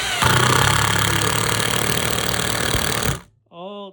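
A Makita impact driver drives a square-drive screw into wood, a loud continuous rattling hammer and motor whine lasting about three seconds before it stops abruptly, followed by a short spoken remark.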